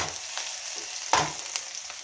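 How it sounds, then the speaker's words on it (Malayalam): Chopped onions sauté in a pan for a prawn curry, a soft continuous sizzle broken by a few brief clinks and scrapes of a stirring utensil. "സവാളയാണ് ഞാൻ അരിഞ്ഞ് വെച്ചേക്കുന്നത് അതൊന്ന് വഴറ്റിയൊന്ന്"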